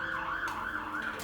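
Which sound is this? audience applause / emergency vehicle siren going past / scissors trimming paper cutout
emergency vehicle siren going past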